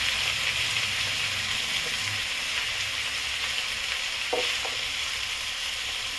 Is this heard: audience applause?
no